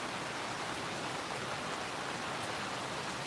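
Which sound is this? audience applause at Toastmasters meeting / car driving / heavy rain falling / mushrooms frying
heavy rain falling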